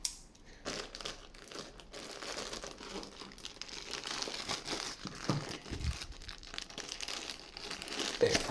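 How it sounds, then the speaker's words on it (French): Unwrapping an AliExpress airsoft parcel: steady crinkling and crumpling of plastic packaging with occasional tearing, close and fairly quiet, continuing throughout with no talking. "Ouverture du colis."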